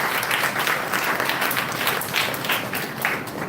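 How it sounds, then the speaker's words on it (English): An audience claps at a lecture event, a close, busy patter of many hands with audible individual claps, steady and lively throughout the short stretch. "can we give a big round of applause to Sujan and Anita?"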